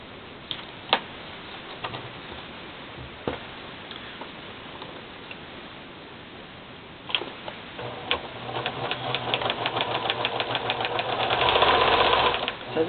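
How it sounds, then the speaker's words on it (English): Sewing machine stitching across a folded fabric bottom edge: scattered clicks at first, then a steady rapid mechanical chatter that grows louder toward the end. "I'm going to sew over that fold right to the top."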